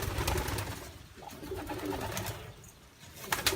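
Pigeons coo in a small loft built for twenty to twenty-five birds, soft low calls set against a busy, noisy background with no talk.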